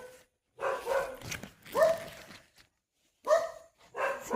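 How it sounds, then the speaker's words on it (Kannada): A dog barks in a village garden plantation on a quiet morning, giving about four short bursts of barking at a moderate distance with brief silences between them. "ಆ ಕಡೆ ನಾಯಿ ಇದೆ ನೋಡಿ, ನಾಯಿ ಬೊಬ್ಬೆ ಹೊಡಿತಾ ಉಂಟು"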